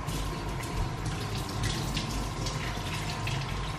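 Water runs and splashes steadily over a bag of rice being washed, a continuous tap-like gush with no voices.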